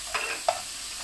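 Noodles being stir-fried in a pan in a home kitchen: two brief scraping, sizzling strokes close by, fairly faint, with quiet gaps and no talking.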